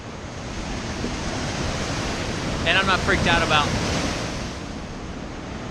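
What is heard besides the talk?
ocean waves crashing on cliffs at Cape Meares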